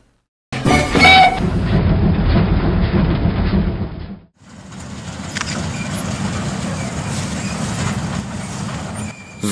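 Narrow-gauge GLS-30 diesel locomotive train rumbling along the track at a brickworks line, a loud steady low engine drone with rattling wagons, briefly dipping midway before continuing.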